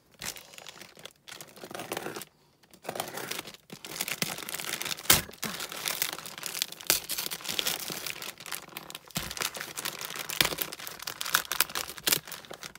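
Crinkling and tearing of packaging tape and wrapping on a heavily taped parcel, in irregular bursts with brief pauses, close up and fairly loud, no talking.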